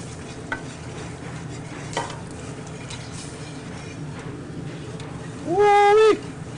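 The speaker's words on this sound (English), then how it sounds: "now my sauce it's really come to a hard boil." Bourbon glaze sauce at a hard boil in a pan, giving a steady close bubbling sizzle, with a brief loud tonal squeal near the end.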